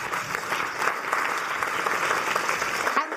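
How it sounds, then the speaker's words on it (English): An audience claps continuously as panelists are welcomed onto the stage at a talk on othering and belonging, a brief burst of lively applause holding steady throughout. "Huge round of applause."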